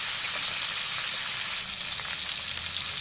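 Pork ribs searing in a hot pan, a steady bright sizzle and crackle of frying fat, close and continuous without a break.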